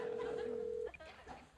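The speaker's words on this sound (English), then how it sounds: "Using your touchtone keypad, please enter the first 3 letters of the movie title now." A touch-tone telephone keypad tone holds steady for nearly a second at close range, then brief faint beeps follow, with a voice murmuring in the background.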